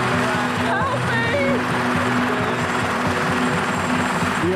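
A helicopter climbs into the Swiss Alps mountains, its engine and rotor drone loud and steady inside the cabin, with voices talking briefly over it.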